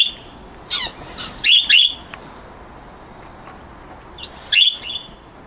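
Pet canaries eating egg food give several short, bright chirps and squawky calls in bursts, close and fairly loud over a quiet room background.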